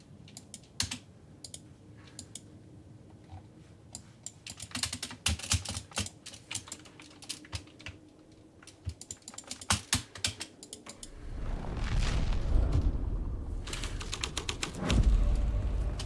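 A keyboard clatters in quick, uneven bursts as a writer types a story in the video game Alan Wake II. Near the end, a low, rumbling ambient swell rises beneath the typing.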